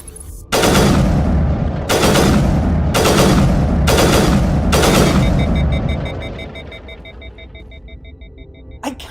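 Five loud, evenly spaced sniper rifle shots from Mass Effect, each a sharp crack with a long booming tail, followed by a fading mechanical hum and a faint click at the end.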